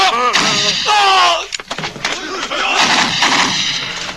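A voice shouts, then a single sharp gunshot cracks out, followed by muffled commotion and noise.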